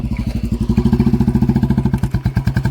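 A Royal Enfield Bullet motorcycle engine thumps loudly and close in a steady, rapid rhythm of even pulses, holding a strong low beat throughout.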